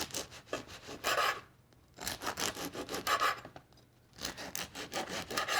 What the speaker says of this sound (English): And what I do is just cut this into slices.